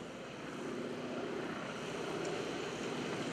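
A single aerobatic airplane's engine drones steadily throughout a lakeside airshow as it swings back around after a slow aileron roll, a broad continuous roar at moderate distance with no voices.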